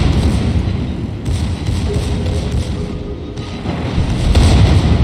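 Heavy naval gunfire from an enemy ship in the World of Warships game, a continuous loud rumble of booming shots and low thuds with no clear separation between blasts.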